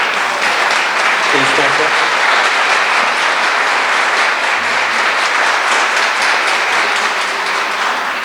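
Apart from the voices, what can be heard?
audience applauding the organizers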